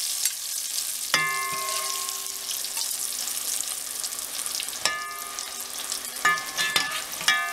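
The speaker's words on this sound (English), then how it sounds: "You just wanna get it in the hot ghee, and when it starts to sizzle" Hot ghee hisses and crackles continuously around frying puri, a steady sizzle with a few sharp metallic clinks of a utensil scattered through it.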